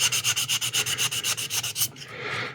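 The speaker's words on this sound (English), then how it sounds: "Nice thing about wet sanding is it's good for your hands, especially with the soapy water" Quick back-and-forth strokes of wet sanding on a plastic 1/60 NeoGrade Sazabi model kit part with soapy water, a rapid rhythmic scratchy rub of about a dozen passes up close, then a softer smear.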